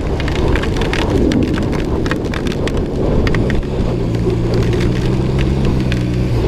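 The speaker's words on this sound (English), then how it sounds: "I gotta get shelter from the storm." A heavy rainstorm pours down in a steady, loud roar with dense patter and low rumbling underneath, continuous for the whole stretch with no talking.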